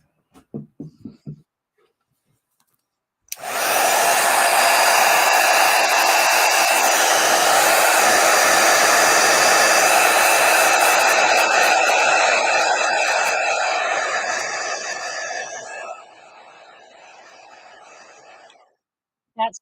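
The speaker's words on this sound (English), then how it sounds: "I'm going to hit it with the heat gun" A heat gun drying acrylic paint on a journal page roars loudly and steadily for about twelve seconds after a few soft taps, then drops to a lower hum before stopping.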